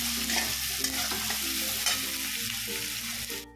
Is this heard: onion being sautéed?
yes